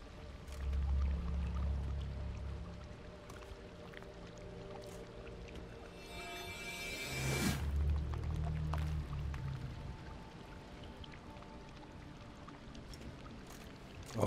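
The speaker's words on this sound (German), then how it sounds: "Das Wasser steigt nach oben." Rising water in The Witcher 3: Blood and Wine gives a low rumbling wash of moving liquid with a brief rushing surge midway, then settles into a quieter steady flow with faint creaks.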